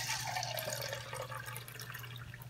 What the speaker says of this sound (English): just pour himself a glass of water